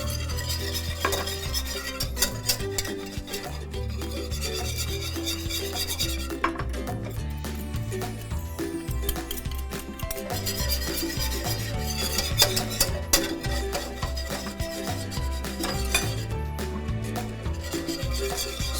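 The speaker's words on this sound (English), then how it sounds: "we need to start whisking this with our beef broth" A sauce is whisked with beef broth in a pan for beef stroganoff, giving a fast, steady metallic scraping and swishing that runs throughout over soft background music.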